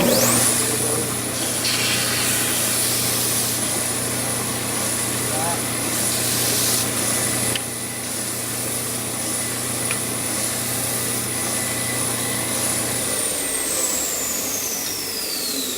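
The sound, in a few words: power sander sanding off edges of pieces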